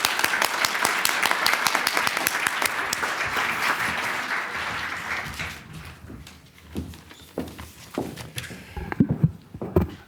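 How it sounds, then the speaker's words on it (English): Audience applause for panelists at a panel discussion on the Paris attacks: dense, steady clapping for about six seconds, then thinning into scattered claps and thumps as the room settles. "give a hand of applause to the panelists"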